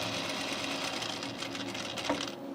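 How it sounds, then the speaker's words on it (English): A sewing machine runs steadily while stitching a shirt, covering a seam on the right side of the garment. The whirring motor and rapid needle chatter continue unbroken and close by, with no voices. "I'm sewing on the right side of the garment, so I want to make sure I cover up that seam there"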